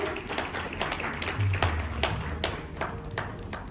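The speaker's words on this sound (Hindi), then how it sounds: "जोरदार तालियां हो जाए मैम के लिए" An audience at the Aligarh Wings Award 2021 ceremony in the Lemon Tree hotel claps for a jury member, a dense, steady patter of many hands filling the room.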